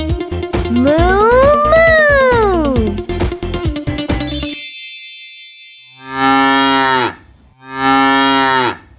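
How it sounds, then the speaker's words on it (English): Cartoon cow in a children's farm-animal toy segment gives two loud, drawn-out moos on their own, after a bright musical passage with a gliding, moo-like melody. "Let's see what the cow says."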